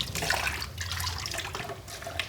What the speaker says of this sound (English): I'm going to add just a little bit of water, just a little bit